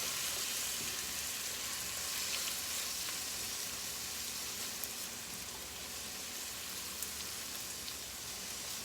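Shrimp sautéing in a pan, a continuous close hiss and crackle of frying. It holds steady for several seconds, with faint pops scattered through it and no voices.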